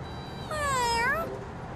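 A cartoon cat gives a single clear, rising-then-falling meow lasting about a second, close and alone over quiet background.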